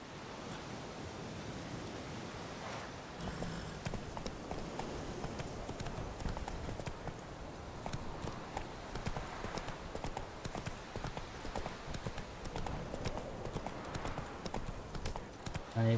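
Roach the horse trots in The Witcher 3, a steady run of clip-clop hoof beats over a wash of wind and surf-like ambience, with faint talk in the background.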